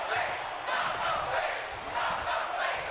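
Rhythmic crowd chanting in a WWE 2K24 wrestling match, a steady surging roar of many voices rising and falling in a regular beat, with commentary-like speech underneath.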